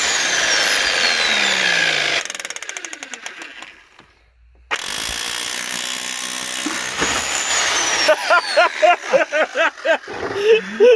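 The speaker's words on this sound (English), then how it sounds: "You're using a masonry drill bit?" Power drill fitted with a masonry bit, working on a Reliant's gearstick rod; a loud drilling whine breaks into stuttering bursts, drops out for a moment, then returns steadily and ends in short repeated revving pulses up close.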